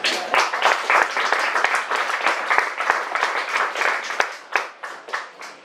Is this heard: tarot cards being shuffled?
no